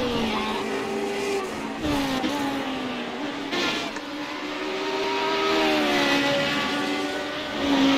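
A Radical SR8 race car tears through flat-out bends at Watkins Glen, reaching sixth gear. Its high-revving engine whines loudly and continuously with rising and falling pitch and brief shifts, heard from on board.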